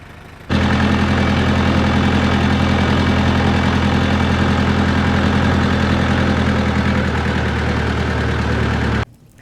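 A YuMZ tractor engine idling, a steady low rumbling drone with a faint knocking pulse, close and loud, running alone for about nine seconds before cutting off abruptly.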